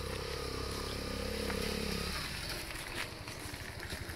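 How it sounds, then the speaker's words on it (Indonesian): A motorcycle engine buzzes close by on a newly paved village road, loud at first, then dropping away and giving way to rattling street noise as it passes. "Wah, sepeda motor."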